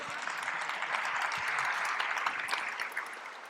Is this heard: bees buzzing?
no